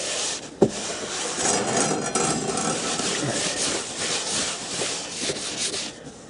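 A rag wiping excess finish off a Gerstner wooden toolbox, a continuous close rubbing and scuffing with one sharp knock near the start.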